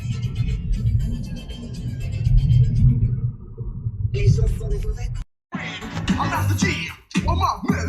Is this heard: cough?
no